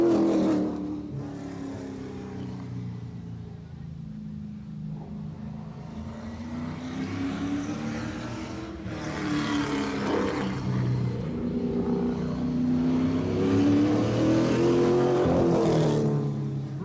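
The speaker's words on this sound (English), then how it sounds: "let's see what the V8 late model can do around the track at Grand Bend Speedway" A V8 late model race car roars around the Grand Bend Speedway oval, engine pitch rising and falling as it laps, loud and continuous with the sound swelling as the car passes close.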